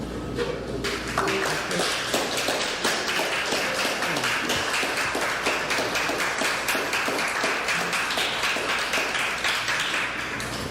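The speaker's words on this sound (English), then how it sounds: "give our good brother, Dhoruba Bin Wahad, a round of applause" An audience claps for Dhoruba Bin Wahad at a speaking event, a steady, fairly close patter of many hands that keeps going without letting up.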